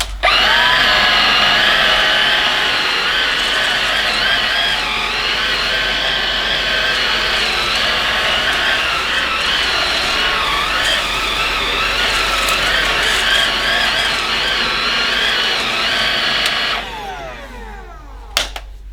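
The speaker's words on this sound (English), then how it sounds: "I'll just give you a quick demo of it." A Bosch BBH3211GB cordless stick vacuum hums steadily at close range with a bright, whining motor tone, then cuts off near the end, leaving brief clicks.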